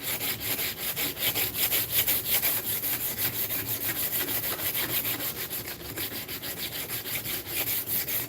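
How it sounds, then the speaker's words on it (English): A hand-held sander works steadily on cured epoxy, giving a loud, continuous abrasive rasp with a quick back-and-forth pulse throughout. No one speaks. "This sander is a great size."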